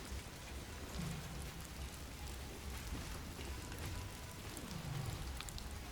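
Steady rainfall in the Path of Exile video game, a dense, even hiss of drops with a couple of low rumbling swells, heard alone with no talking.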